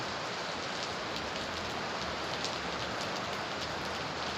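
Heavy rain pouring at night in Manila, a dense, continuous hiss of drops striking surfaces, steady and unbroken throughout with no voices.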